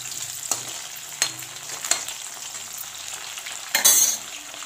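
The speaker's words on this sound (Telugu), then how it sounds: "ఉల్లిపాయలు అయితే వేగిపోయింది" Onions fry in a pan for mushroom curry, a steady close sizzle broken by a few sharp spatula scrapes and stirs, with a louder burst of clatter near the end; no one speaks.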